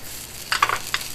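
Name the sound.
toasting fried rice in a pan, sizzling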